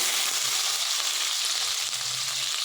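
Garlic and green chillies fry in hot oil with a continuous bright, hissing sizzle, close and steady, with no voice over it.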